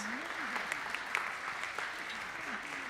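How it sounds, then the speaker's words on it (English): A concert band audience claps for the red band at a winter concert in Guelph: a steady, full round of applause from a crowd, with a faint voice running under it. "A round of applause for Donna and the red band"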